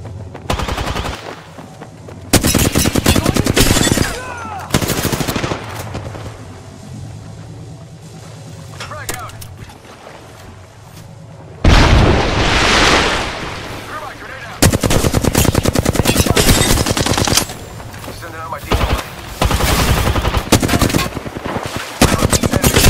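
Automatic weapon fire in the video game Apex Legends, loud dense bursts of rapid shots coming in several long stretches with brief quieter gaps, a player's voice occasionally heard between them.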